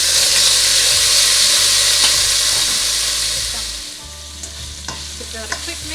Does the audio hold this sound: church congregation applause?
no